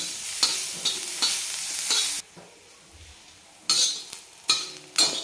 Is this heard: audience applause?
no